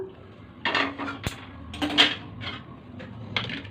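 Cooked spinach and drumstick-leaf dal spooned into a bowl, producing a few close clinks and scrapes of a metal spoon against dishes, spaced irregularly across a few seconds in an otherwise quiet kitchen.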